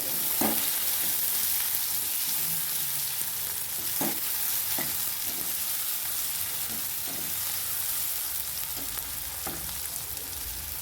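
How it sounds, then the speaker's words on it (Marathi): Finely sliced onion frying in a pan, a steady broadband sizzle running throughout with occasional scraping stirs and light clinks of a utensil, close and fairly loud, no voices. "मी उभा कांदा कट केलेला बारीक तो ह्याच्यात टाकून द्यायचा आहे तर हे छान परतून घ्यायचे"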